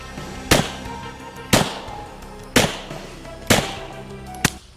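A gun fired with squib loads holding one grain of powder, giving five sharp, loud pops at roughly one-second intervals, each with a short decaying tail, and no talk.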